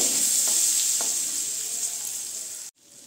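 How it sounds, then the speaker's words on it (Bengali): Onions hit a hot pan already holding lightly fried cardamom, cinnamon and cloves, giving a loud close hiss and sizzle with a couple of stirring knocks before the sound cuts out abruptly near the end. "এখন দিয়ে দেবো আমি পেঁয়াজটা"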